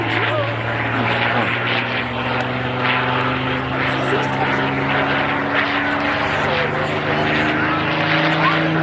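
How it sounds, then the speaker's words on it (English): Supermarine Spitfire Mk XI photo-reconnaissance aircraft of 16 Squadron, Merlin engine, making a display pass at the RAF Cosford Air Show: a loud, steady propeller-engine drone with a low sustained hum that swells slightly as it passes, under an announcer's commentary. "So Peter Teichmann about to carry out his last pass in front of us with his really beautiful Robert Spitfire of 16 Squadron."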